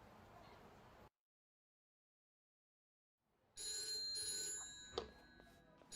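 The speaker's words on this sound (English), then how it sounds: "I mean, that is a rotary phone." Bell of a rotary telephone ringing in a video game, set in a 1970s or 80s flashback; it rings loud and alone after a stretch of silence, with a sharp accent near the end.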